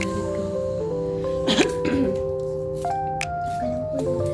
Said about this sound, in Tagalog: Inuubo na ako dito